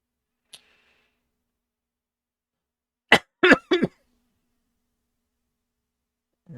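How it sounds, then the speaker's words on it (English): A short burst of three quick coughs in a quiet space, preceded by a single faint click. "that was me coughing."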